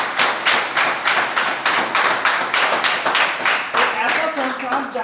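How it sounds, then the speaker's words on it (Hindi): An audience at a school parents' meeting claps loudly in a quick, even rhythm, close and sustained for several seconds, with a voice faintly heard beneath. "एक बार जोरदार ताली होनी चाहिए"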